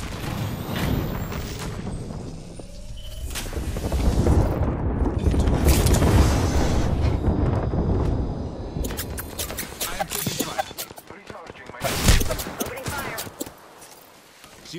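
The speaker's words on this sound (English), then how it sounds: "Attention, airstrike inbound." Apex Legends battle with an inbound airstrike: heavy booming explosions and bursts of gunfire crash repeatedly over about fifteen seconds, loud and close, with sharp cracks and rumbling impacts and brief game voice lines in between.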